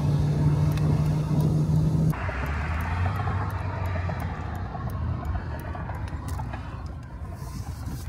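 A 1990s Mercedes SL500 R129 roadster cruising on the road, a loud steady engine drone with road and wind noise, engine tone dropping partway through, no talk.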